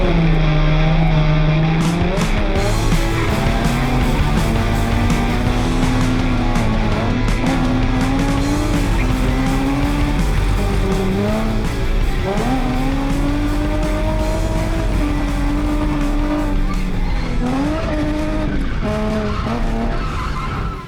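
A car drifts around a track in a sim-drifting session, with a sustained loud engine and repeated tire squeals rising and falling over about twenty seconds, and no talk.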